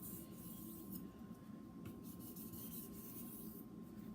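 A kitchen knife scraping steadily back and forth on a Japanese natural whetstone, a continuous gritty rasp held at a fairly even level close up, with no talking.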